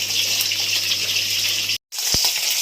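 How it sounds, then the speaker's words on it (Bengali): Steamed cauliflower florets and potatoes tipped into a colander over a basin give a steady, loud watery gush that cuts out abruptly, followed by a brief splash. "আমার কপি ভাপানো হয়ে গেছে, ঝাঁঝরি গামলায় ঢেলে দিচ্ছি।"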